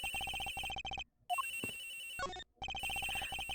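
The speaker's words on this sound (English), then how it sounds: "It's gotta be the victim's cell phone." A cell phone rings from inside a locker in Ace Attorney Investigations, its electronic ringtone melody repeating in loud bursts broken by two short pauses.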